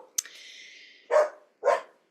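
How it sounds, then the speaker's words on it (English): A pet dog barks twice indoors, two short, loud, close barks about half a second apart, following a brief faint whimpering or yip sound. "Sorry, that's my dog."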